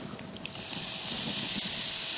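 Wild fennel hits onions in a hot pan, setting off a loud, steady sizzle that swells after a brief quieter start and holds close and continuous.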